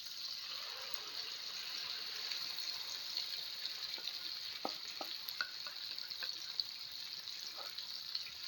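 Bitter gourd and onion paste fries in a pan over medium flame, a faint steady sizzle with a few soft scraping and stirring clicks scattered through the middle.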